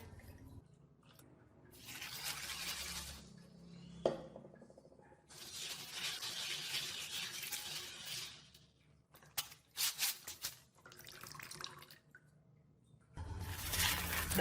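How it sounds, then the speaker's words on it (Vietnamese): Clean tap water runs in several separate bursts over black beans being rinsed for sticky rice, splashing and dripping between quieter gaps, with no talking. "Bây giờ các bạn đem đi xả nước sạch lại ha."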